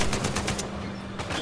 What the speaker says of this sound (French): Il me tire dessus, je sais pas d'où.